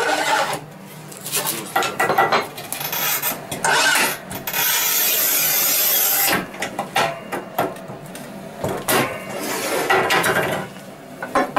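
A Montolit 90 cm manual tile cutter scores and snaps tile, making close scraping and rasping strokes with metallic clicks, clunks and rattles of the mechanism in irregular bursts.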